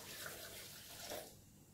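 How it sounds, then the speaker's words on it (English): Water runs into a blender in a steady stream for a couple of seconds, a soft close rushing pour that tapers off near the end. "we're going to add about 2 cups of water in the blender"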